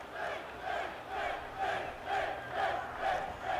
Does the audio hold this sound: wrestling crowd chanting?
yes